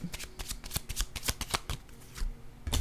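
Tarot-style cards handled and drawn during a card reading, a quick run of crisp, close flicks and slaps, some doubled, coming in an uneven rhythm with brief pauses and a final rustle.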